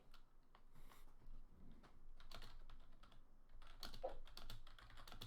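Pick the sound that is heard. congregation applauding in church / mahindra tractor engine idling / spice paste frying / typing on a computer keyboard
typing on a computer keyboard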